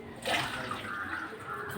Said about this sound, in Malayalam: ആവശ്യത്തിന് വെള്ളം ഒഴിച്ചു കൊടുക്കണം കേട്ടോ